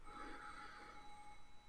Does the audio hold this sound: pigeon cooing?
no